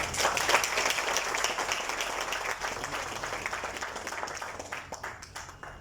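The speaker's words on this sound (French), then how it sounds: "Sous vos applaudissements." A dense wash of audience applause fills a factory inauguration ceremony for a new Phoenix Bev production line in Mauritius. It starts loud, then slowly thins and fades as the clapping trails off.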